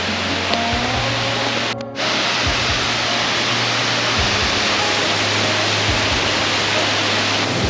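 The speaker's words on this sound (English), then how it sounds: "Oh my god, waterfall!" A waterfall in the hills of Snowdonia sends up a steady, broad rush of falling water that fills the scene without pause, with a brief dip partway through and a few low thumps underneath.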